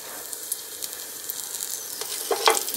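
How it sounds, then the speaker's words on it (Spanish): Onion and garlic frying in olive oil in a skillet make a steady, quiet sizzle with occasional small pops and a brief stir near the end, heard close with no voices. "En un sartén vamos a calentar un poco de aceite de oliva. Ahí vamos a guisar la cebolla, el ajo,"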